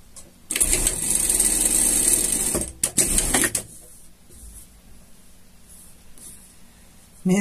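Sewing machine stitching a behavioral pet harness, a loud steady whirring run of about two seconds followed by a shorter burst, then quiet handling.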